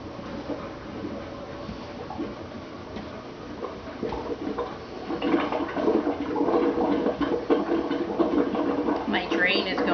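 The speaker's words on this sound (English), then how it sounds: "My drain is going. Does that sound great? I forgot I had my washer going." Water from a washing machine draining through an old farmhouse drain, a steady gurgling rush that grows louder in the second half, with faint kitchen clatter alongside.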